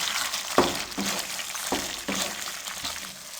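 Chopped fresh coconut roasting in a kadhai for coconut and chana dal halwa, giving a steady soft sizzle with occasional scraping stirs and light clinks, close and moderately loud, no talking.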